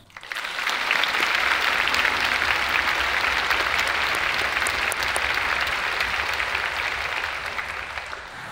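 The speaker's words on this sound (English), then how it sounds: "Please give warm thanks and applause to Nazareth University's Chamber Choir, directed by Eric Rubenstein," Warm sustained applause from a large audience at Nazareth University's centennial jubilee after a chamber choir performance, a dense even roar of clapping that swells in quickly and holds steady before easing slightly at the end.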